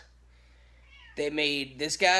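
A house cat meows loudly and close by, letting out a drawn-out cry and then a second shorter one, while someone talks softly just before it.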